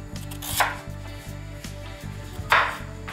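A knife chops beetroot steadily on a cutting board, with a couple of louder strikes, over soft continuous background music.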